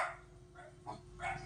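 A dog, fairly faint and close-ish in a quiet home, gives a few short yips and soft barks in quick succession, with no talking.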